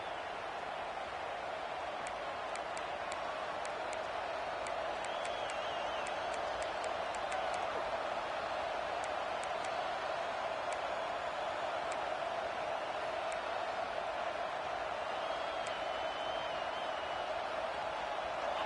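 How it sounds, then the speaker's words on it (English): Broad, steady stadium crowd roar in College Football 26, a continuous wash of cheering noise held at a constant level for the whole stretch, with faint whistles and shouts poking through. "This crowd ready to make its presence known"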